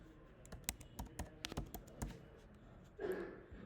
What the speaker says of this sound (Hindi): आपको मैं यहाँ पे टाइप करता हूँ